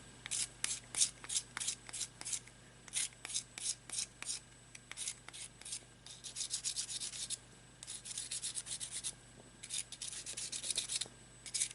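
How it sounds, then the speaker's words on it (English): Sandpaper rubs the edges of a dried air-dry clay pendant in quick, rhythmic back-and-forth strokes. The sound is close and soft, with short bursts separated by brief pauses. "I will use the sandpaper to make sure that the edges are smooth."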